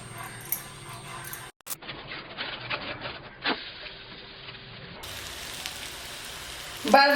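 Thalipeeth, a multigrain flatbread, frying in oil on a griddle, giving a soft, steady sizzle with brief crackles and a louder burst near the end.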